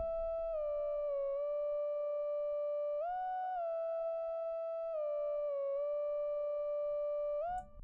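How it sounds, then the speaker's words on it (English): A smooth synth lead made in FL Studio holds long sustained tones, gliding between a few pitches in a slow, steady melody. "I then also have this lead playing."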